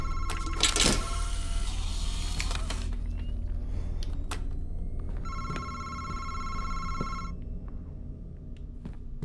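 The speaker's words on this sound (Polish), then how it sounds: "Telefon, kurwa, zadzwonił." An old-style telephone bell rings in the Madison VR horror game, a loud metallic ring standing out over a low droning background hum, with a sharp burst near the start and a sustained ring later on.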